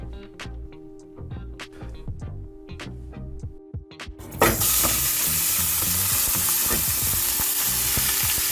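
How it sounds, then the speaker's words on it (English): Ground sirloin hitting hot olive oil in a frying pan: scattered clinks and taps at first, then a sudden loud, continuous sizzle that holds steady to the end, close up with no talk. "Add the meat and let it cook until tender and golden brown."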